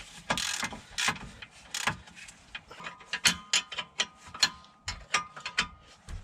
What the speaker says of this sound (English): Take my torque wrench here and just tighten in to approximately 60 foot-pounds